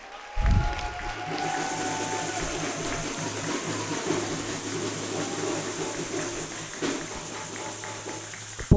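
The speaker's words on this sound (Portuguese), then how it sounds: "Eu queria pedir uma salva de palmas para o Abel" Hands clapping at a formal ceremony honoring a carnival bloc musician, a sustained wash of applause and cheering that lasts several seconds over a steady hum and rhythmic background.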